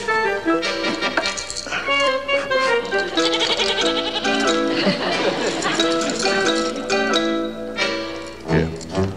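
Goat bleats ring out over music, wavering animal cries layered with tonal background sounds, with a short pause near the end.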